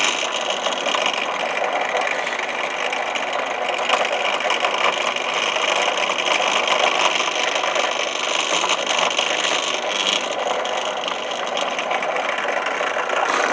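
Machine stitching through three thicknesses of leather on a knife sheath, a steady dense mechanical whirr running without pause for over thirteen seconds, close and fairly loud with no talk.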